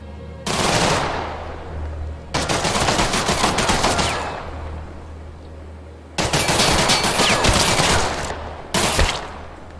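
Loud, abrasive bursts of automatic gunfire in the video game The Last Haven, several long rattling volleys separated by brief pauses, close and harsh.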